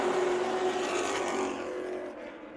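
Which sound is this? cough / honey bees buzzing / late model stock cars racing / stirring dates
late model stock cars racing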